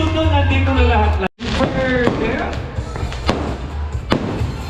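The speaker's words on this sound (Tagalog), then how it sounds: "And mga fireworks para sa inyo" Fireworks at a 100th birthday celebration for a grandmother in Pangasinan, a few sharp pops and bangs breaking through steady talking nearby.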